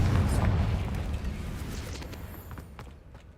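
A Confringo fire spell cast in a Harry Potter video game bursts as a loud, deep rumbling blast that slowly fades over a few seconds.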